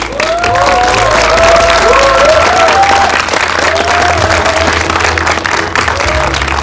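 Loud, sustained applause and cheering from a large crowd at a Korean film producers' award ceremony as actor Cho Jung Seok takes the stage for best actor, with shouts and whoops riding over dense clapping throughout.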